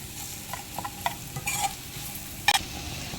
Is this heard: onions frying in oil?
yes